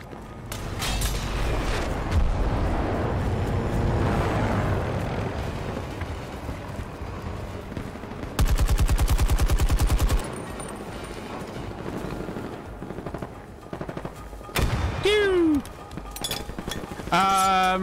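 Gunfire and explosions in the video game Battlefield 2042: a dense, continuous wash of combat noise with deep booms, and a sharp, rapid burst of shots standing out loud near the middle.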